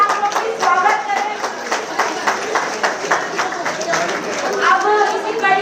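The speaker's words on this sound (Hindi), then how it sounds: "जोरदार तालियों से आप लोग भी स्वागत करें।" Crowd at a Mahila Congress gathering claps to welcome a newly appointed state president, a loud, fairly rhythmic burst of hand claps with crowd murmur and a voice or two mixed in throughout.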